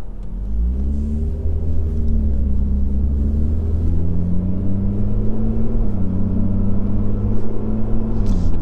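Lotus Evora sports car driving on the A171 road in the North Yorkshire Moors, a loud steady engine drone from inside the cabin with gently rising and falling pitch as it cruises, plus road rumble.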